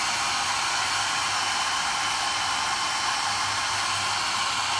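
Constant loud whoosh of a hair dryer running close up over a crackle paint finish, an unbroken airy hiss with a faint low motor hum.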